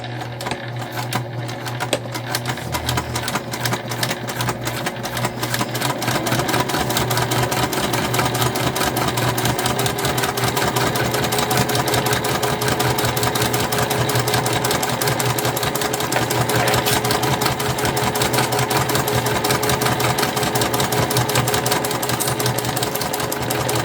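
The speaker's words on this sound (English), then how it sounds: "And then go ahead and baste." A sewing machine runs steadily at close range while basting a bum bag, its needle giving a fast, even mechanical chatter. It starts with a few slow stitches, then hums on without pause for over twenty seconds.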